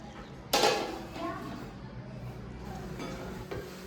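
A single sharp clack as a lid goes onto a pan of sautéing tomatoes for a coconut-oil fish curry, followed by a soft, steady sizzle and a faint knock near the end.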